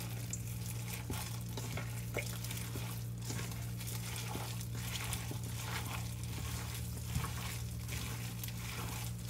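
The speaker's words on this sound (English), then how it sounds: "I'm going to take my time and I'm going to mix this all in" Wet squelching and stirring as turkey meatloaf ingredients—ground turkey, tomatoes, egg and breadcrumbs—are mixed by hand in a bowl, a soft steady rhythm of strokes over a constant low hum.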